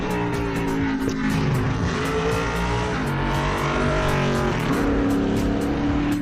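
A NASCAR race car screams past on a track in Mexico, its engine a loud, sustained high-revving roar that shifts pitch as it passes and keeps droning without pause, with no talk over it.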